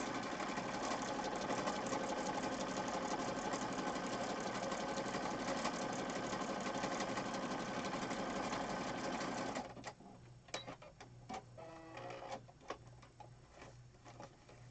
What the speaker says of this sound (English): I could have made that pink piece a little bit wider maybe, and then I would only have to sew once, but I didn't, so we're going to sew twice.